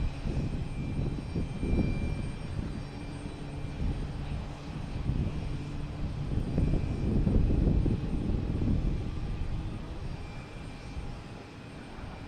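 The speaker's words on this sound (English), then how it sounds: "I have American Airlines coming in from Indianapolis in E175" An American Airlines Embraer E175 jet arriving from Indianapolis at Boston Logan, its engines a steady, moderately distant rumble that swells slightly through the middle before easing off.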